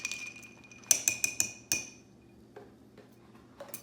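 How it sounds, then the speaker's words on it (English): Ice clinks against the glass as a Negroni is stirred, a quick burst of five or six bright, close taps, then a few softer knocks as the stirring slows. "So the right way to make a Negroni is to stir it."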